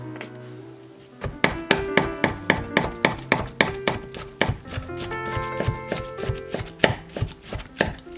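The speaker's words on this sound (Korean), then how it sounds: "영상처럼 모든 재료들을 잘게 채 썰어 주세요." A knife finely julienning gimbap ingredients on a cutting board, giving a brisk, steady run of sharp close chops that continues for several seconds without talk.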